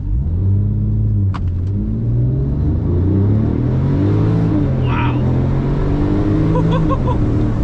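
A 997-generation Porsche 911 Turbo engine roars and revs hard through repeated rising gear pulls from a brake-torqued 0 to 60 launch, loud and close, with a deep rumbling exhaust throughout.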